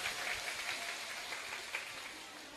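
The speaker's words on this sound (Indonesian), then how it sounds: "Tepuk tangan dulu." Audience applause at a religious study gathering, faint and distant, a steady patter of clapping lasting a couple of seconds.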